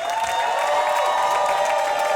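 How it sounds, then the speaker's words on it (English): Applause and cheering from a comedy show crowd fill the room, loud and continuous, with a steady tonal drone mixed in. "Y'all make some noise for Trey Mack."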